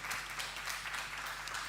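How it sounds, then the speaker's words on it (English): Audience at a youth forum debate competition final applauding a workshop presenter, a brief dense patter of clapping from a crowd in a hall, steady and moderately loud. "Let us give a rousing applause to Mr."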